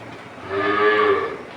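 A Holstein Friesian dairy cow gives a single loud, close moo, a sustained low call that swells and fades over about a second.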